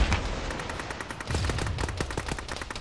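Rapid bursts of video game gunfire in a military shooter crackle in quick succession, sharp and fairly close, with no voices over them.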